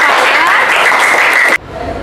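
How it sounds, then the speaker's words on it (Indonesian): Classroom applause from students rings out loudly and densely, then cuts off abruptly near the end, leaving quiet room tone. "Kasih tepuk tangan ke Noval ya."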